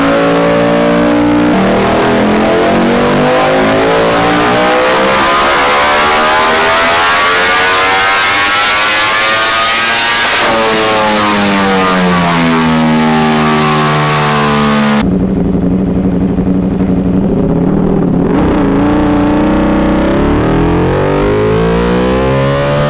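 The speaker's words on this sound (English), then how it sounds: "arguably one of the best sounding L4 engines in the whole world" A Ducati L4 superbike engine revs hard through its exhaust, climbing and falling in several loud sweeps before cutting off abruptly, then building again.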